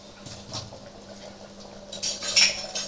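Utensils clatter and scrape against a pot as ingredients for a white mutton curry with white oil are mixed, soft stirring at first, then louder metallic clinks and knocks near the end, close by with no talking.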